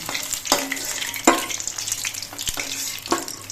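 Spiny gourd (kakrol) pieces fry in oil with a steady, close sizzle, broken by a few sharp clinks and scraping stirs.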